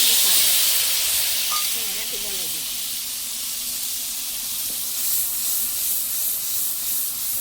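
Spices hitting hot oil for a Gujarati kathi fry dish give a steady hissing sizzle that begins loud and settles into a continuous fizz, with faint kitchen knocks and no talk.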